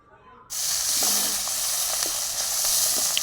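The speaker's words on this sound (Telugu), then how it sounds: "అది కాగిన తర్వాత జీలకర్ర, ఆవాలు వేసుకొని కొంచెం గోలిన తర్వాత పచ్చిమిర్చి, కరివేపాకు వేసుకోవాలి" Cumin, mustard seeds, green chilies and curry leaves hit hot oil with a sudden loud hiss, then sizzle and spit steadily and close up, with scattered small pops.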